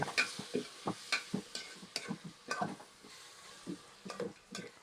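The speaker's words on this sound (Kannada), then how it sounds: "ಈಗ ಟೊಮೆಟೊ ಹಾಕ್ಕೊಳ್ಳಿ. ನಂತರ ಟೊಮೆಟೊ ಕೂಡ ಮಿಕ್ಸ್ ಮಾಡ್ಕೊಳ್ಳಿ." Tomatoes and garlic paste stirred in a pan over a low flame, a quiet run of rhythmic scraping and clinking strokes with a faint sizzle underneath, and no voice.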